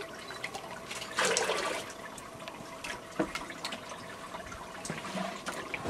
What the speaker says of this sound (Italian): l'acqua dove è stato lavato il falso banano viene filtrata in una stoppa